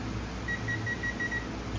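An oven timer is set for baking an eggplant casserole, giving six short, evenly spaced high electronic beeps over a low background hum.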